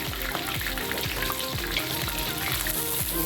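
Green masala fish fries in hot oil in a pan, with a steady close sizzle and repeated soft scraping knocks as the pieces are turned and oil is spooned over them; no voices.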